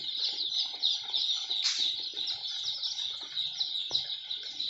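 Young layer chicks in a cage brooder, a dense chorus of shrill, continuous peeping close by, with a brief louder flutter partway through.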